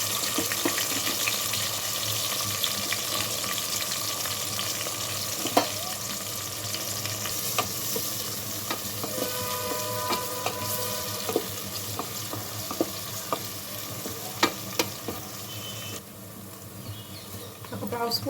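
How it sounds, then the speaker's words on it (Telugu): Cleaned dry prawns sizzle steadily in hot oil in a pan, a continuous close crackle with scattered pops and a few clinks of a utensil. "క్లీన్ చేసిన రొయ్యలు ఆయిల్లో ఫ్రై చేసుకోవాలి."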